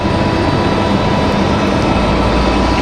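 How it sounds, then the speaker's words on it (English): A FedEx Boeing 767-300F cargo plane arriving from Memphis at Raleigh-Durham International roars loudly and steadily, a broad jet-engine rumble that holds constant across the short stretch. "So FedEx 785 coming in from Memphis, 1 hour, 28 minutes of flight time for the 767-300F."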